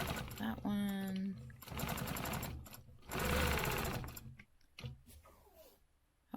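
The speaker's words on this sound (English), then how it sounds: "let me go ahead and stitch the remainder of these" A sewing machine stitches a stencilled quilt design in short bursts separated by pauses, with a faint voice talking quietly between runs.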